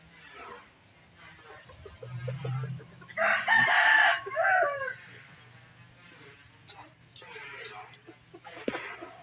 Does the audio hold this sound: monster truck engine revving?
no